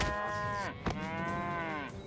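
A cow moos in the mobile card game South Park: Phone Destroyer, two drawn-out lowing calls split by a brief sharp hit, loud and close with no talk.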